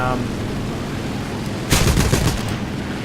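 A short burst of aircraft machine gun fire in the War Thunder flight game, a rapid rattle of shots lasting about a second over a steady engine drone, close and fairly loud.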